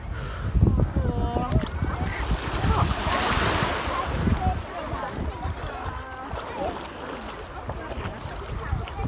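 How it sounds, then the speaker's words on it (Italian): Sea waves wash onto a beach at Rifin in Morocco, a broad surging hiss mixed with wind buffeting the microphone, close and fairly loud, while people talk over it. "siamo qua nella spiaggia di Rifin, ma veramente i Caraibi del Marocco."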